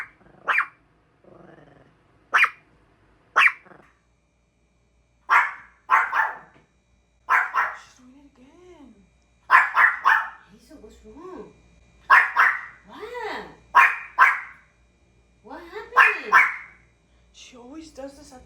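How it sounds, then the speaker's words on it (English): A dog barks indoors in a house, a series of sharp separate barks spaced irregularly across the stretch, loud and close, with some lower whining or growling tones between them. "At first we're like, okay, whatever, she barks"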